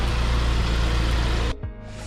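A Saab 9-5 with around 200,000 miles idles close by with a steady, low rumbling hum for about a second and a half before the sound cuts off abruptly.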